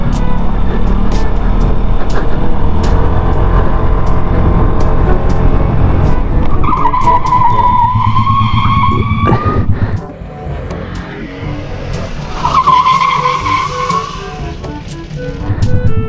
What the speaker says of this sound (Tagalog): skid talaga siya kasi nga front ABS lang, front and rear brake